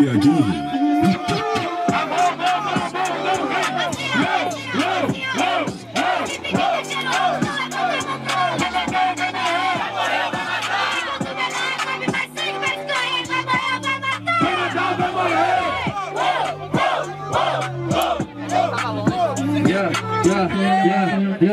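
A battle rap crowd at a semifinal event roars and cheers for the third round, with dense, loud, continuous crowd noise and voices throughout.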